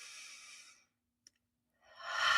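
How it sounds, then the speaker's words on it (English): A single deep breath is drawn in close to the microphone, a soft airy inhale followed by a pause of near silence. Then a second breathy rush rises and swells. "take a moment to take a deep breath in"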